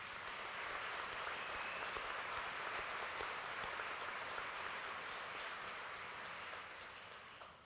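Sustained audience applause at a community college commencement ceremony, steady dense clapping from a large crowd that holds at an even level and fades slightly near the end.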